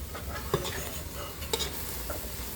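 A spatula scrapes and stirs fish curry paste, made with short mackerel for a Thai noodle sauce, drying out in a pan, with close, repeated clicks over a soft continuous sizzle.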